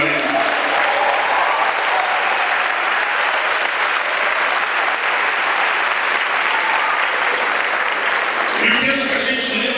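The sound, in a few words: church congregation applauding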